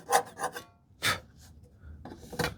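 Hand saw cutting curves in wood during hand-tool furniture building, a few short rasping strokes, close and fairly quiet, with no talking.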